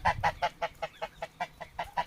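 Young geese just over a month old honk in a quick, even series of about eleven sharp calls, close by and loud with no other sound.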